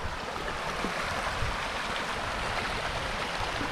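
Steady, dense rush of flowing water, like a stream tumbling over rocks, continuous and fairly loud with no voices.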